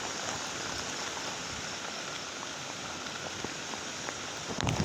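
A soft, steady hiss of rain falling on surfaces in an okra field during a storm, constant and even, with a brief louder patter at the end.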